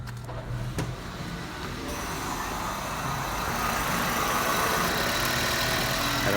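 A 2002 Toyota Prius engine idles with a steady low rumble while the frozen AC compressor clutch slips and drags on the belt, the tone rising and thickening slightly toward the end; no talk.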